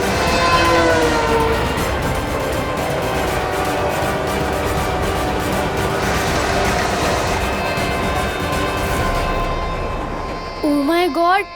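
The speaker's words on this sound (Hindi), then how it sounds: "कहीं ट्रेन ने बालवीर को कुचल दिया तो?" A train approaches with its horn blaring over a heavy, continuous rail rumble that stays loud and close. A few brief vocal sounds come at the very end.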